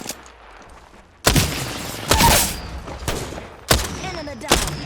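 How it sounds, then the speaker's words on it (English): Enemy gunfire in a shooter game, several loud sharp bursts and volleys of shots at irregular intervals, each one decaying quickly, with quieter game sounds in between. "The enemies are shooting at me"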